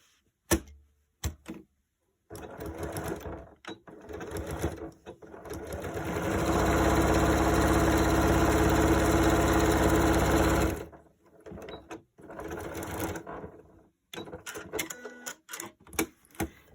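Serger sewing machine finishing a fabric edge while making reusable dryer sheets: scattered clicks and short bursts, then a loud, steady mechanical whirring run of several seconds, followed by more intermittent clicking, close by.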